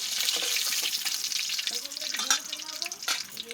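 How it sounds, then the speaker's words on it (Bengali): Fish pieces frying in hot oil in a home kitchen, giving a steady, close crackling sizzle throughout, with faint voices and a few brief tonal clinks over it in the second half. "আর বাকি মাছগুলো এইভাবেই ভেজে নেব।"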